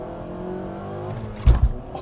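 A 2021 Nissan Sentra SR with a manual gearbox drones steadily under acceleration inside the cabin, then gives a brief low thump and lurch as it shifts gears.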